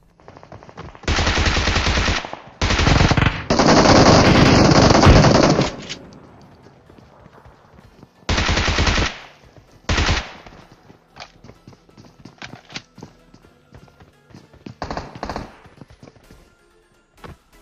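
Automatic gunfire in the PUBG Mobile video game, several long loud bursts of rapid shots followed by scattered single cracks and quieter distant fire.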